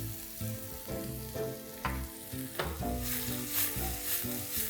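Kung Pao potato wedges tossed in a sizzling pan with Sichuan pepper, a loud steady sizzle with repeated rhythmic tossing scrapes, close up, under light background music.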